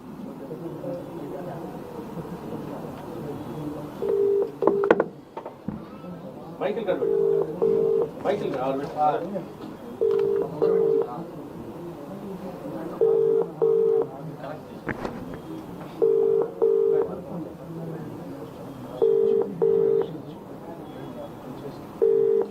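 A call is placed over a phone line, with repeated pairs of short ringback beeps at regular intervals sounding faintly beneath ongoing conversation and background noise.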